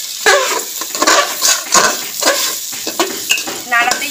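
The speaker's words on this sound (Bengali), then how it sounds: "অনেকক্ষণ ধরে চালটাকে এটার মধ্যে ভাজতে হবে।" Gobindobhog rice sizzles and fries in a pan while being stirred, giving loud close scraping and rustling strokes in an uneven rhythm over a constant sizzle.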